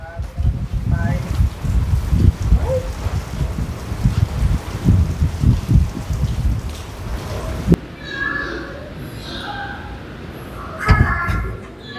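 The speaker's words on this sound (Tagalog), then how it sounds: "Wow, grabe ka kusog kang hangin." Strong typhoon wind buffets the microphone in loud, uneven gusts for several seconds, then eases into a lighter rushing noise while people talk and exclaim nearby.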